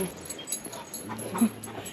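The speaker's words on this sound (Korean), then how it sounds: "우리 숙소 강아지. 나 따라왔어 얘." A guesthouse puppy lets out soft, faint whimpers and a brief whiny yip, close by against quiet outdoor background noise.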